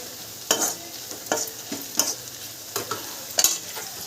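Garlic and ginger sizzle in a pan of oil while a spoon stirs them in sharp scraping strokes, five or six distinct scrapes over a steady frying hiss, close up and without talk.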